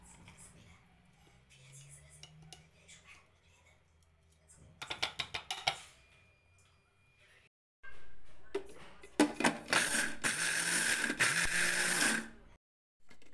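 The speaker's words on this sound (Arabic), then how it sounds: "هنا بنفس الطريقه غادي نطحن الشوفان من بعد ما حمرته" An electric grinder whirs loudly for about four seconds as it grinds toasted oats. It follows quieter rattling and short clicks, and soft talk comes beforehand.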